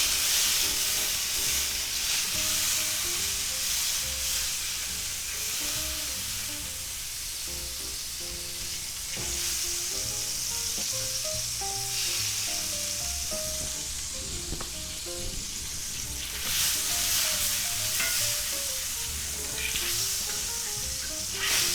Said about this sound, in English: we're going to add some butter to the pan